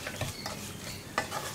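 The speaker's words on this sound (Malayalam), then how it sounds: "ലോ ഫ്ലെയിമിൽ വെച്ചിട്ട് തന്നെ ഇളക്കി കൊടുക്കുക" Spices stirred in a pan over a low flame while making green peas curry, a soft scraping swirl with faint sizzle and one brief louder scrape, fairly quiet and close, with no talking.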